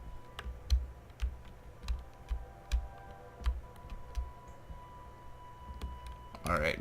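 Computer keyboard keys are pressed during a Kerbal Space Program session, with sharp irregular clicks and taps spread across the clip, close and fairly soft, a low thump recurring underneath.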